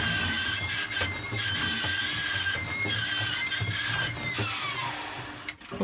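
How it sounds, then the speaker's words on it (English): A Miele washing machine drain pump runs with the front open, giving a steady close mechanical whirr and hum with water movement, continuing alone throughout. "the pump's just come on and it's leaking out a load of water there"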